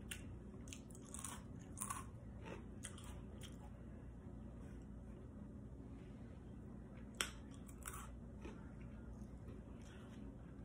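Dry Drumstick cereal pieces chewed close to the mic, with scattered crisp crunches and bites over roughly ten seconds and one sharper crack near the end, no talking.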